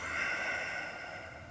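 A single calm, soft exhale through the nose during the Bakasana crow yoga pose, quiet and close, tapering off over about a second and a half.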